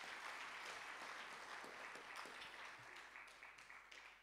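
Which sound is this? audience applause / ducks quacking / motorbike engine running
audience applause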